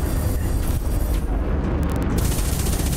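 Plasma cannon blasts in the space combat game Elite Dangerous Horizons during a conflict zone fight, loud rumbling booms that run together continuously for a few seconds.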